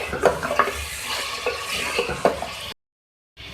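Ginger garlic paste frying with beef and green onion in a pot, a continuous sizzle broken by repeated metal spoon scrapes and clinks against the pan, ending in a brief silence.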